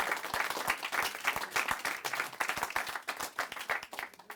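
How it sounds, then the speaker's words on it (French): A small audience at a talk show recording claps in a steady patter of distinct handclaps, fairly close and moderately quiet, with no voices over it. "j'ai envie de vous applaudir"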